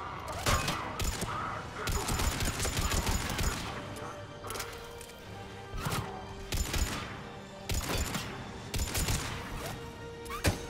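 Assault rifle fire in the game Mass Effect 3, repeated bursts of rapid shots amid a noisy battle with crashes and impacts, moderately loud and steady over the whole stretch.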